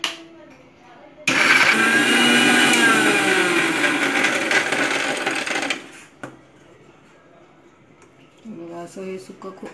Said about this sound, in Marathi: असं हे पूर्ण सुकं असं वाटून घ्यायचं